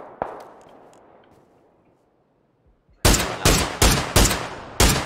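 PUBG gunfire: a single early shot fading into quiet, then a loud close burst of about five heavy shots in uneven rapid succession.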